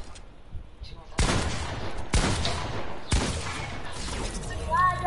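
Heavy bursts of video game gunfire in a fast shooter, three loud sustained volleys about a second apart each cutting off abruptly, with brief voices around them.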